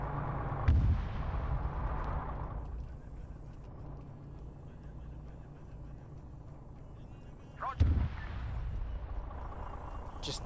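Two heavy booming explosions in a military video game as vehicles are blown apart, each a sharp blast with a rumbling tail, separated by several seconds of low background rumble.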